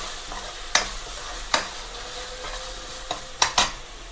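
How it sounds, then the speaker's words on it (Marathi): Pre-fried cauliflower goes into sizzling masala and is stirred, a soft steady sizzle broken by several sharp scraping clacks of the spoon against the pan, close and fairly quiet, with no speech. "आपण टाकूया आता फुलकोबी यामध्ये"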